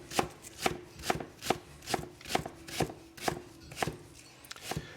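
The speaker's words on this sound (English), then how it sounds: "Using that chopping board." Leeks are chopped on a chopping board with a knife, a steady run of about a dozen crisp, evenly spaced thuds, close and clear with no talking.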